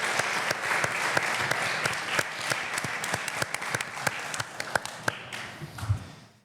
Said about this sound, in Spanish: para las cuales pido un fuerte aplauso